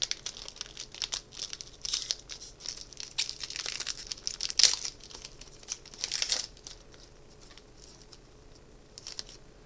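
Close crinkling of foil wrappers as Magic Kaldheim booster packs are opened: steady, light rustling with a few sharper tearing crackles, no voices.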